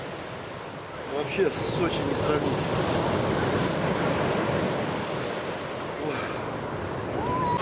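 Black Sea surf washing onto the beach at Gagra, Abkhazia, a steady broadband wash of breaking waves close by with wind noise, while people talk over it.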